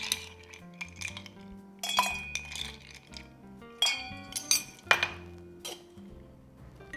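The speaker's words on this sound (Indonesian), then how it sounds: "Lo masukin nih es batu ke dalam sono." Several hard clinks and clatters of ice cubes knocking into a glass, arriving in irregular bursts with short pauses between, close and fairly loud.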